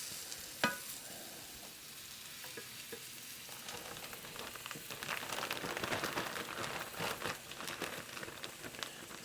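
Food being stirred in a sizzling pan in an Instant Pot: one sharp clank early on, then steady frying crackle with scraping stir strokes that grow busier and louder, with no talking.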